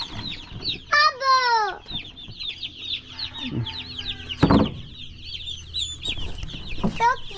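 Young chicks being moved to a new spot make high, thin peeps and chirps in bursts, mixed with clucking from nearby fowl, a low voice, and a brief thump or rustle partway through.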